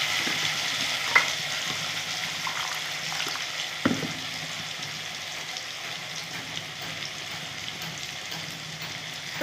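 A paste of coriander leaves, mustard, poppy seed, green chili and garlic frying in a pan for a North Bengal boroli fish curry, with a steady moderate sizzle, a couple of sharp clinks and stirring scrapes, no talk.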